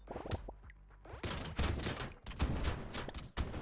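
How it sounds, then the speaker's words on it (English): Explosive turret in the video game Brotato firing three missiles, a rapid burst of loud blasts and crunching impacts that layer into a dense, continuous barrage of game combat effects. "So watch the explosive turret firing 3 missiles. That's just going to blow stuff up immediately"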